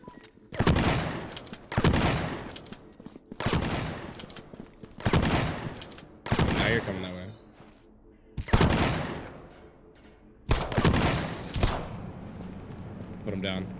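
Sniper fire in a solo survival shooter, a series of about eight loud, sharp single shots spaced roughly a second or two apart, each with a ringing tail, alone without talk.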